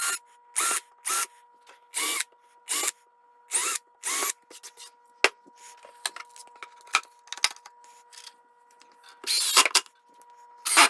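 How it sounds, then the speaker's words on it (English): A power drill bores holes in a painted wooden bee box: about seven loud, evenly spaced bursts of whirring, each roughly a third of a second, then quieter clicks, taps and handling noises before a final short burst. "Those fingers I hadn't drilled, so I'll do that now."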